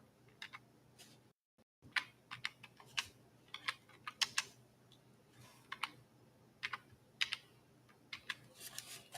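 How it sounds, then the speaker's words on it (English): Computer keyboard typing rattles close by in irregular bursts of clicky keystrokes with short pauses, a brief silent gap near the start, and no talk over it. "I'm going to type up yoke of iron."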